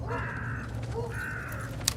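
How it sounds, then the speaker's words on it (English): Several crows caw in a disturbing film scene, two drawn-out harsh calls standing out over a steady outdoor rumble, moderately close, with no voices. "And most importantly, crows"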